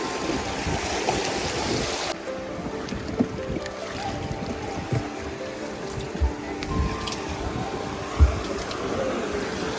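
A small boat heads out onto the sea off Payyambalam Beach in Kannur, Kerala, with a continuous low engine-and-water rumble, wind and splashing waves, and a few louder knocks and thumps over the steady wash.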